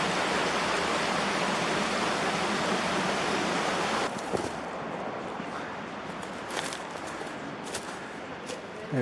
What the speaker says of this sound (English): We've got the creek down there.